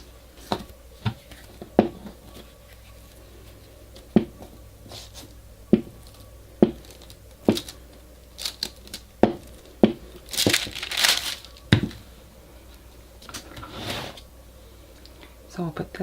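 Fiber paper for an altered book project is handled and crumpled close by, with scattered sharp crinkles and taps and a denser crackling burst near the end, while a person talks in the background.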